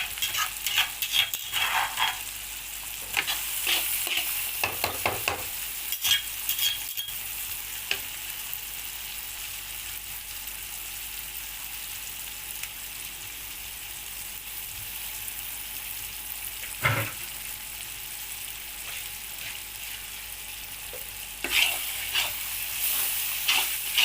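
Roasted eggplant bharta mixed with ground chilli cooks in a pan, a steady close frying sizzle with intermittent spoon-stirring scrapes and clatters, busiest at the start and end.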